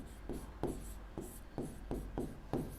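Chalk or pen writes in short rhythmic strokes during a maths lesson, about seven or eight faint scratchy taps and rubs spaced evenly over a few seconds in a quiet room.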